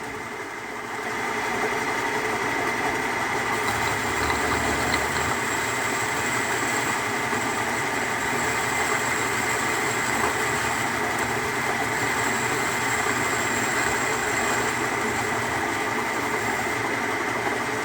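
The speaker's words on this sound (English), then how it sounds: "And now some bandsaw action." A bandsaw cuts a crank pulley blank for a Case D tractor repair, droning steadily and loudly with a constant motor hum and grinding cut noise that holds unchanged for the whole stretch.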